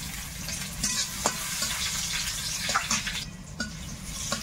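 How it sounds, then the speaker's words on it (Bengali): Crushed garlic and dried red chili frying in oil, a steady close sizzle with occasional stirring clicks and scrapes throughout. "রসুনটা তেলে একটা লাল লাল ভাজা হয়েছে"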